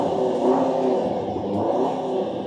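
A 635-horsepower sports car engine revs up loudly and close by, a sustained throaty roar that swells and eases over a couple of seconds with no talking.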